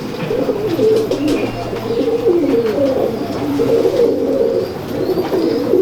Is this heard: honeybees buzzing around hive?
no